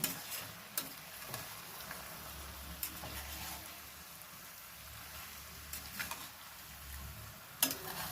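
Village-style country chicken curry is stirred in a pan, with soft sizzling underneath and occasional spoon clinks and scrapes, close and fairly quiet with no speech.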